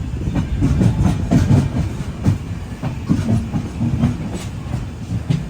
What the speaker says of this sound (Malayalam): കോഴിക്കോട് റെയിൽവേ സ്റ്റേഷനിലേക്ക് ഇതാ നമ്മുടെ ട്രെയിൻ എത്തിക്കൊണ്ടിരിക്കുകയാണ്.